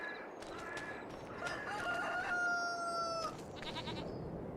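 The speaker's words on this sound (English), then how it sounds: "Oh, the cockerel got frightened and ran off." A rooster in Farming Simulator 25 crows a long cock-a-doodle-doo at a fair distance, with shorter clucks and other farm-animal calls around it over steady background noise.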